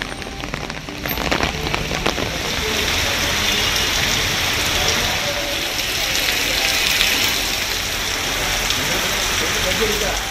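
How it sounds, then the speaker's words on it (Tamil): Steady rain falls across Kanyakumari district in Tamil Nadu, a dense continuous hiss of drops on surfaces that holds at an even, fairly loud level throughout, with no voices. "கன்னியாகுமரி மாவட்டம் பாலமோர், சிவலோகம், மயிலாடி, நாகர்கோவில் உள்ளிட்ட பல்வேறு பகுதிகளில் மழை பெய்தது."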